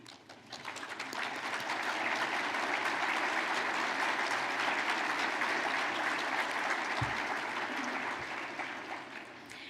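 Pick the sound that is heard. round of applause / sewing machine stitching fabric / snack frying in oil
round of applause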